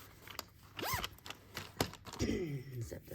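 A zipper is pulled up in a few quick, close rasps amid quiet movement and breathy vocal sounds.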